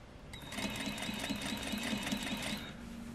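A sewing machine stitches a facing seam along a small curve, its rapid, even needle chatter running steadily for about two and a half seconds, close and clear.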